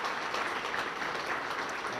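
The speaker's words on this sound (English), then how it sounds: "So can we get a round of applause for the table over there?" Applause for a team at a chamber of commerce dinner: steady clapping from a banquet crowd, continuous and fairly even throughout, with no voices standing out.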